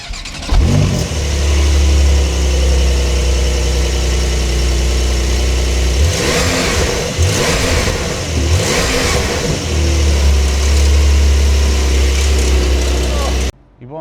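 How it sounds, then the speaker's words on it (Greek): Porsche 911 Carrera (992) with the Sport Exhaust package, loud and close: the engine settles into a deep rumbling idle, then revs in several sharp rises around the middle before dropping back to idle and cutting off. "Πάμε λίγο να ακούσουμε πώς ακούγεται η εξάτμιση του 911 Carrera E."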